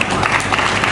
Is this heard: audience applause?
yes